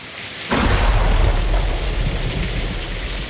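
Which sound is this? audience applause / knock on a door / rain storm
rain storm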